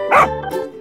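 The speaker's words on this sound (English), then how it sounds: "Dog." A single dog's bark, a short loud close bow-wow followed by a second softer yip.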